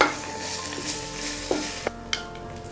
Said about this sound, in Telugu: ఇలా నేను ఇంగువని వేస్తున్నానండి తర్వాత కరివేపాకును కూడా వేస్తున్నానండి ఇలా కొద్దిగా వేగాలి